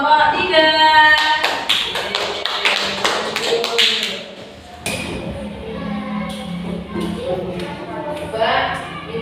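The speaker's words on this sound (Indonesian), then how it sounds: "tepuk tangan untuk kelompok 3" Classroom applause for a student group after their presentation, a short burst of fairly close clapping followed by lighter scattered claps, with a teacher and students talking.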